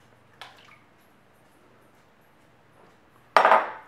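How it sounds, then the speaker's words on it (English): Eggs are cracked into a bowl, giving a faint tap early on and then one louder, close crack with a short wet splat into the bowl. Near-silence fills the gap between them. "Get a large bowl and add 3 eggs. I like to crack them into another bowl"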